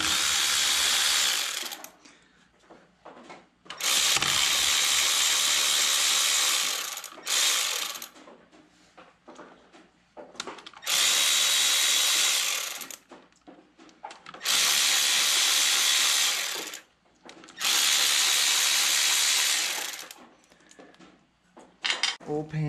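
Ratchet wrench loosening the 13 mm bolts on the flat metal oil pan of a Yanmar tractor during a head gasket job: five long bursts of rapid clicking, each a few seconds, separated by short pauses with faint background sound.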